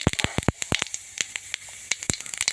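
Cumin seeds crackling and popping in hot oil during tempering for a raw banana curry: a rapid, irregular run of sharp close pops over a soft sizzling hiss, with no voices.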